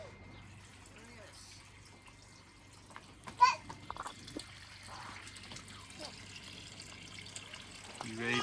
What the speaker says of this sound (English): Filling up the pool for the baby.